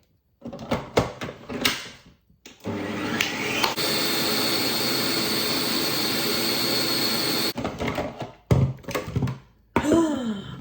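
Ninja Creami ice cream maker spinning a plant-based mix: clunks and beeps as it starts, then a loud, steady whirring drone for several seconds before it stops with further clunks and beeps.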